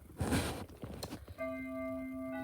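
Indoors in Japan, after some brief clattering noises, a single bell tone rings out clearly and holds, humming with steady overtones until the end.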